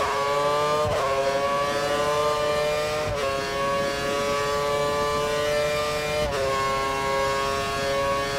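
A Formula 1 race car engine in the F1 2013 video game at the Abu Dhabi circuit holds a loud, high-pitched whine, with brief dips at gear shifts roughly every two to three seconds.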